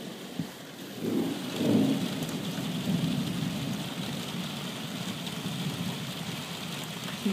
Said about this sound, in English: I think there's about 8 thunderstorms going on at once.